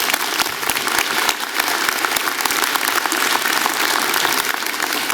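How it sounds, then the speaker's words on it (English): A convocation audience applauds an honorary degree recipient, a loud, dense, sustained ovation of many hands clapping steadily throughout. "Please give her a round of applause"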